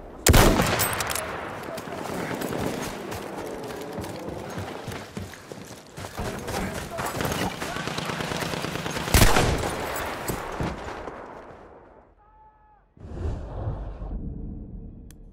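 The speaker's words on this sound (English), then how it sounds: "That's an anti-tank gun!" Anti-tank gun blasts and heavy gunfire in a Battlefield 1 battle, a loud chaotic barrage of rapid shots and booming impacts, with a big blast near the middle before it fades, a brief tonal signal, and resumed fire.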